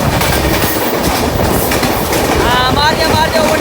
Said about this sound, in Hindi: अपनी ट्रेन गुजर रही है